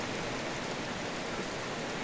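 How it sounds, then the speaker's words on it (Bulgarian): Rain falls at about 1500 metres in the Rhodope mountains under dark clouds, a dense, even hiss of steady downpour with no voices. "Чувате ли как вали?"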